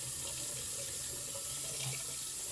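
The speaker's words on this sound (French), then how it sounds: "On va rincer la microfibre." Tap water runs steadily into a sink while a microfibre cloth is rinsed under the stream, a continuous close splashing hiss with no talk.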